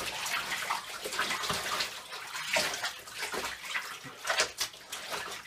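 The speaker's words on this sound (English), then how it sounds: "as the water is going out of our bathtub" Water drains out of a bathtub after clothes are washed by hand, a continuous hissing, gurgling rush with splashy bursts and small surges, close and fairly loud.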